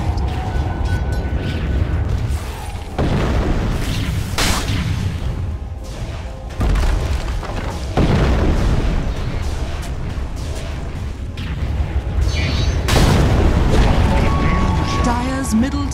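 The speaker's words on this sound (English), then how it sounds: "Dire's middle tower is under attack." Dota 2 match audio of Dire's middle tower being attacked and brought down: loud, dense game combat with repeated booms and whooshing impacts over a steady music bed, with heavy hits near the start and end.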